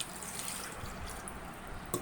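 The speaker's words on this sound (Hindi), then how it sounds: "सबसे पहले हम इसमें पानी ऐड कर देते हैं," Water pours into a washed jug for a grapefruit drink, a soft steady trickle running throughout at low level, with a brief brighter splash near the end.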